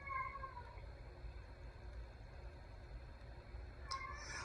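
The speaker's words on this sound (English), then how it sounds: "oh my God, my cat." A house cat gives one short, faint meow at the start, then a low steady background hum fills the rest.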